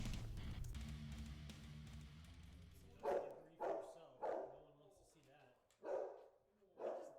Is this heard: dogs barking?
yes